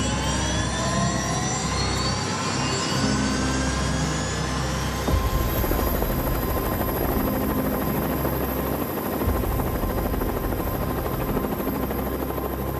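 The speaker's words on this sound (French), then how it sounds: "L'hélicoptère va se positionner à l'altitude voulue, 4000 mètres" A helicopter climbs toward 4,000 metres with a team of skydivers aboard on Réunion Island, its steady rotor and turbine roar loud and continuous from inside the cabin, with no break.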